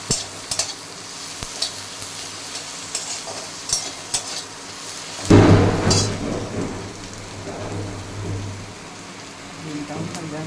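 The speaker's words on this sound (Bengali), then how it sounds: "কড়াইয়ে তেল দিয়ে 5 ফোড়ন দিয়ে টমেটো আর পেঁয়াজটা ভাজা হয়ে গেছে।" Tomato and onion frying with panch phoron in oil in a wok, heard as a soft sizzle that swells into a loud hiss partway through, with stirring clatter and heavy rain outside in the background.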